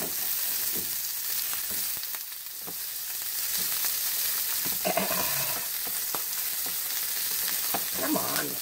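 Shrimp fry in a hot pan with a loud, steady sizzle close by, broken by occasional scraping and clinks as the pieces are moved and stirred.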